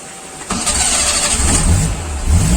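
An engine cranks and catches about half a second in, then settles into a loud, close, rough running rumble with a steady low drone and no talk.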